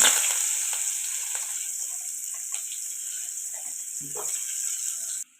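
Curry leaves and garlic sizzling in hot oil in a pan, a loud steady hiss that starts strong and settles into an even crackle before cutting off abruptly.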